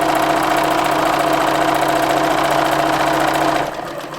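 Sewing machine stitching along a folded fabric edge of a face mask, a steady close mechanical whir with a constant hum that runs loud and even before easing off near the end.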